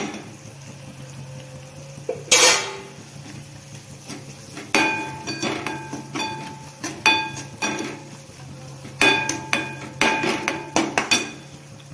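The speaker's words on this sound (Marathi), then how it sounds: "झाकण ठेवून घेत आहे।" A metal lid goes onto a cooking pot holding a ghee-laced spinach dish, with a sharp clatter followed by a series of light, close metallic clinks and taps.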